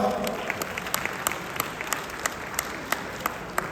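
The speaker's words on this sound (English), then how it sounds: "A big round of applause" Steady applause from a crowd at a Tamil New Year cultural night in Brunei, dense clapping throughout with a few sharper claps standing out, fairly close and continuous for several seconds.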